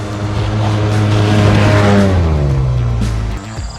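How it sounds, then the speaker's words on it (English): Arctic Cat Wildcat Trail side-by-side revving hard on a trail, a loud, close engine note climbing steadily and holding a sustained roar for several seconds before dropping off near the end. "it just downright sounds fast when that tailpipe starts singing as you hit that go pedal"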